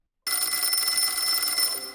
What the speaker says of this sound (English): I was on the Bowser, and the phone rang, and next minute Joe's poked his head out